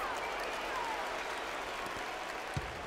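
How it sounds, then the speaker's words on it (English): Video game crowd in NBA 2K15 cheering and applauding during a fourth-quarter basketball game, a steady roar that fills the whole stretch, with a commentator's voice over it. "This crowd getting hype."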